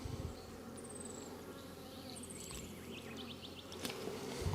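Honey bees hum as a hive is opened for inspection, a steady close buzz of many insects with individual bees whining past now and then.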